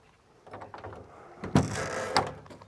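The large rear door of a Regal Raptor K5 electric van is unlatched and swung open, giving a mechanical latch click followed by a solid clunk and a second, lighter knock, close by.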